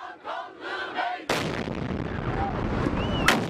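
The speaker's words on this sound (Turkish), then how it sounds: "Patlama anı ise bir cep telefonu kameralarına böyle yansıdı." A loud, sudden bomb explosion bursts in after some muffled talk, recorded on a phone at Ankara's train station. A long, noisy roar and rumble follow, with faint shouts in the distance.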